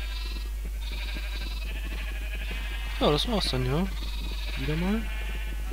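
Minecraft sheep bleat twice in quick succession, wavering and fairly clear, over a steady low hum while someone talks nearby.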